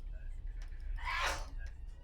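A single sharp sneeze bursts out midway, loud and close, over a low background rumble.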